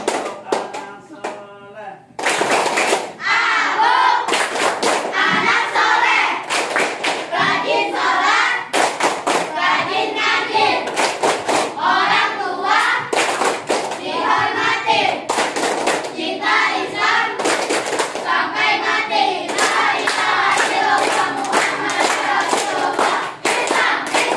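A group of children at a Ramadan Islamic school session clap in a rhythmic tepuk satu pattern, loud and close, with sharp repeated bursts of hand claps and brief pauses between phrases.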